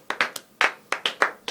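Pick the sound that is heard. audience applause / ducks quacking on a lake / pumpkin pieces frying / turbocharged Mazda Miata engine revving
audience applause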